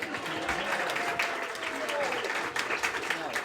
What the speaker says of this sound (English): And a round of applause for our videographer.